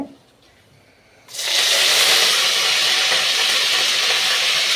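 Hot oil in a pan bursts into loud sizzling as ingredients go in to temper a chicken curry, after a moment of near silence. The hiss then holds steady and close, with no talk.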